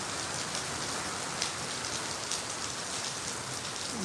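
Steady rain falls in Bathinda, a dense, even hiss of drops on surfaces, close and continuous with no voices.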